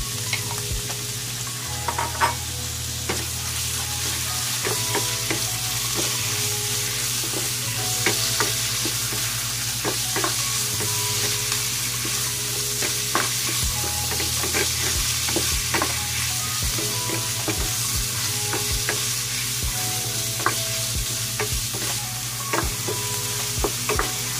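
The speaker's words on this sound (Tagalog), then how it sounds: "Lutuin muna natin ang ating chicken." Chicken stir-frying in a pan for ginisang bok choy sizzles loudly and continuously, with frequent scrapes and clacks of a utensil stirring, heard close up and without any voices.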